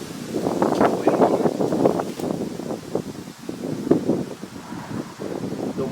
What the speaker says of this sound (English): The wind is not playing any games today.